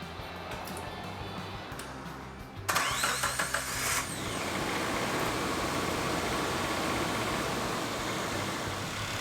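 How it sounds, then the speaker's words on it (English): A 1995 Geo Tracker engine cranks for a moment, catches, then settles into a steady idle rumble with a slight wobble that continues to the end. "let's crank it up and see if it actually idles okay"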